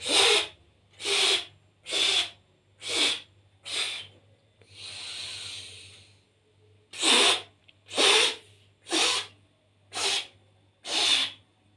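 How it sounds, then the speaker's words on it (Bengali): A person does pranayama breathing, forcing air out through pursed lips in sharp, evenly spaced bursts. There are five puffs, then a longer hissing breath, then five more. Each one is close, clear and breathy, with no talking. "নাক দিয়ে শ্বাস নিচ্ছি, ঠোঁট দিয়ে ছাড়ছি, মুখ দিয়ে ছাড়ছি, পাখির ঠোঁটের মতো শুরু করে কয়েক ভাগে ভেঙে ভেঙে জোরের সঙ্গে একটু শ্বাসটা ছাড়ছি"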